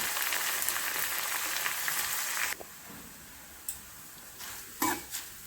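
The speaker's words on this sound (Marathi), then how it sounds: "असं मस्त आपण हे तेलामध्ये फ्राय करून घेऊया" Coarsely crushed, unpeeled garlic frying in oil for a puffed rice snack mix, a soft sizzle that fades sharply after a couple of seconds into a faint crackle with a few light clinks.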